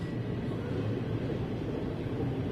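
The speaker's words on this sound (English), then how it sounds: "That's actually a train finally making its way through." A train rumbles through near a wildfire zone in Weimar, a low, steady, fairly faint rolling drone heard from a distance with no talk over it.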